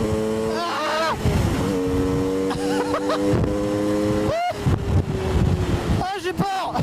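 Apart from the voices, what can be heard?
Sherco motorcycle riding laps on a track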